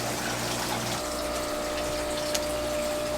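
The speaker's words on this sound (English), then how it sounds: "I put 2 hang on the back filters here." Two hang-on-back aquarium filters on an axolotl tank pumping water, a constant close gush and trickle with a steady motor hum underneath, unbroken and without talk.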